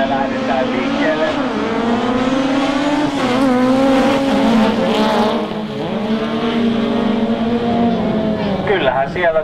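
Rallycross cars, one of them a Fiat, pull away from the start at a demonstration run of a Finnish rallycross event, engines revving and rising in pitch loudly while a commentator talks over them.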